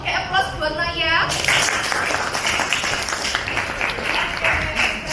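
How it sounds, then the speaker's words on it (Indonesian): A classroom of children clapping in applause for a classmate named Naya, a dense, steady patter of many hands that follows a brief spoken phrase and continues with faint voices underneath. "aplaus buat Naya"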